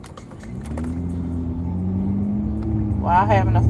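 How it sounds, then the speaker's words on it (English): Road traffic heard from inside a moving car: a steady low engine rumble and road noise that builds gradually, with a person starting to talk near the end. "While having to fight this traffic."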